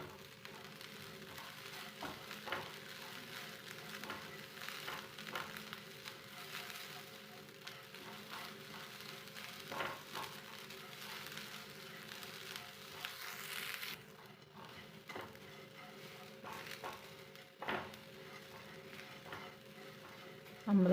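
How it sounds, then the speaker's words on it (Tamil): Sprouted pearl millet is dry roasted in a pan for a millet laddu, giving a soft continuous rustling sizzle with faint scraping stirs throughout, quiet and steady. "ஊற வச்சு முளைக்கட்டிய கம்பு, இதையும் நல்லா வறுத்துக்கலாம்."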